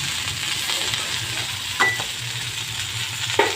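Dal and other ingredients for a cabbage chutney fry steadily in a pan, a soft continuous sizzle broken by two brief scrapes of stirring, with no voices.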